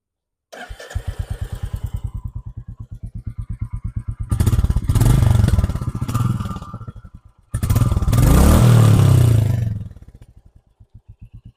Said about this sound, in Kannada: ಅದು ಸೈಲೆನ್ಸರ್ ನೋಟ್ ಕೇಳ್ಕೊಂಡು ಬರೋಣ ಯಾವ ತರ ಬರ್ತದೆ ಅಂತ